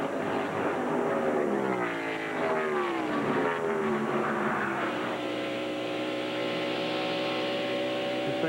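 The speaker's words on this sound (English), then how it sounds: "Bob Hill as he cruises down the backstretch at the Atlanta Motor Speedway." A race car roars down the backstretch at Atlanta Motor Speedway in a 1995 General Tire Hoosier 500K, the loud engine note sweeping and shifting in pitch before settling into a steady high drone.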